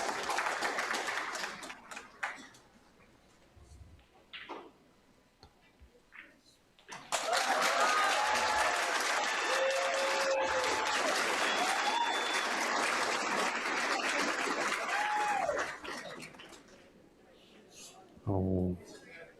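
Crowd applause at a professional pool tournament for a win at another table, a sustained wash of clapping lasting several seconds, preceded and followed by quieter hall sounds and commentary voices.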